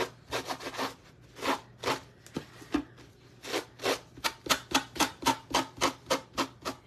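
Scissors snip repeatedly at the edges of a craft pumpkin made from a plastic wipes container, a close, rhythmic series of short crisp cuts that quickens toward the end, with no talking.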